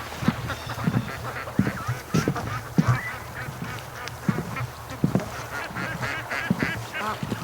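Geese honk from the water over a noisy flock at a lake, harsh calls repeating irregularly among duck quacking and splashing, steady and fairly close.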